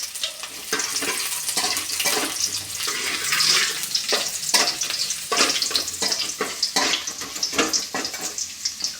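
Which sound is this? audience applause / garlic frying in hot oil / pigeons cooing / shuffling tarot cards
garlic frying in hot oil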